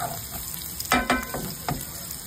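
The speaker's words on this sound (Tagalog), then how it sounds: "magigisa na tayo ng bawang" Garlic sautéing in a hot pan for pork adobo with string beans, a steady sizzle broken by a few bursts of louder frying and stirring scrapes.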